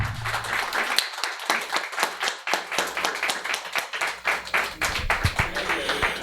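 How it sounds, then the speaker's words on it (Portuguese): Church congregation clapping in a service to honor the women, a lively mix of close, sharp handclaps over a crowd of applause, steady and fairly loud. "Por favor, uma salva de palmas para essas mulheres."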